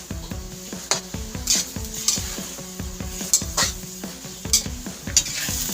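Beef cubes for caldereta sizzle in a pot while a utensil stirs them, scraping and clinking against the metal in a steady rhythm, close and clear.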